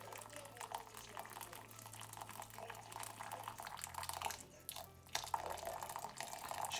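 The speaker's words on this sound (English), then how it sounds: "And I'm using hot boiling water from the kettle." Hot boiling water pours from a kettle in a steady, soft splashing trickle, with a brief pause partway through before the flow resumes, heard close and fairly quiet.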